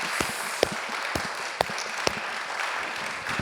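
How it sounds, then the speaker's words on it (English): Audience applauding the helpers who set up an ocean celebration event, a steady, moderately loud patter of many hands with a few sharper individual claps standing out. "I want to applaud you, please."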